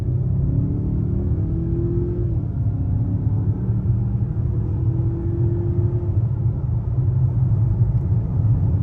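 A 2023 Mazda CX-5 with all-wheel drive accelerating hard on the road, a steady low engine drone and road rumble from inside the cabin with a faint rising tone, no talking.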